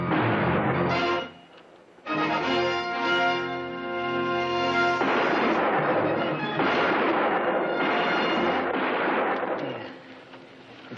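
Gunfire in a classic western TV series, a loud, sustained volley of shots with a brief break early on, then dense rapid firing that fades toward the end, with no talking.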